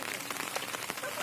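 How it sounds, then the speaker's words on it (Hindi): Rain falling into an open rainwater storage tank, a dense, steady patter of drops striking the water and tank surfaces close by, continuous through the short stretch. "बारिश जो हो रही है वो भी इसके अंदर हो रही है।"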